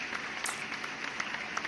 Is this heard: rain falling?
no